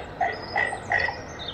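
Animatronic bird on an expo show floor gives three short chirping calls, evenly spaced, over steady crowd and hall noise.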